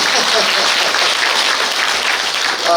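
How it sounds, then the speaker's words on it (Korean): Loud applause from an audience at a political party members' education event in Gimcheon, dense and continuous, filling the whole stretch with no talk over it. "박수 크게 쳐주세요"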